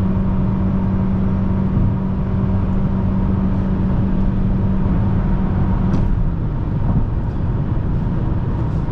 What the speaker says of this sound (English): if I need to go faster, we add in the throttle